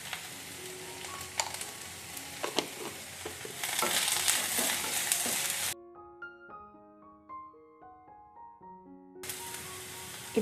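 Kerala-style cabbage thoran sautés in a pan with turmeric, giving a close, steady sizzle and stirring scrapes for several seconds. Music then takes over before the frying returns briefly.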